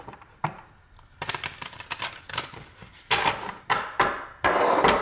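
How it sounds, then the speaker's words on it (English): Tarot card deck being shuffled by hand, with close, crisp bursts of riffling and flapping cards coming in uneven rushes, louder toward the end. "One more shuffle."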